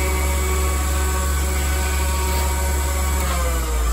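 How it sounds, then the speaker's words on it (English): A rake dressing a spinning polishing wheel to scrape out old compound, giving a loud, steady motorized whir with a constant high whine and grinding hiss that runs unbroken throughout, no voices. "this rake cleans out all of the old compound"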